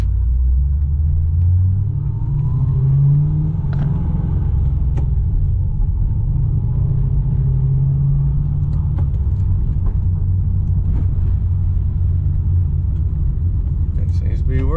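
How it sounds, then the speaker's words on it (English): A car drives on the road just after a new exhaust header install, its engine a steady loud low rumble with mild revving, heard up close from inside the cabin. "drive after the new header install"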